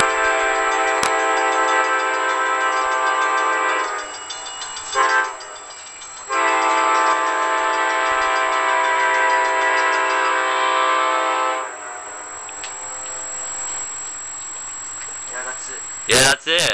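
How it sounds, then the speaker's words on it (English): The Amtrak Blue Ridge Special passenger train, led by a Genesis locomotive, passes slowly through Hickory, North Carolina, sounding a loud sustained horn in long blasts over rumbling railcars, with people talking nearby. "This is the Amtrak Blue Ridge Special."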